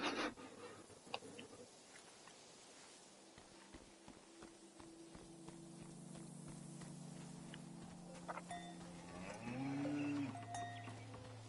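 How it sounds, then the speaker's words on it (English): A cow lowing in the video game Season: A Letter to the Future, long drawn-out moos rising over soft ambient game sounds and footsteps, moderately close and fairly quiet. "The name of this cow is TVC-15"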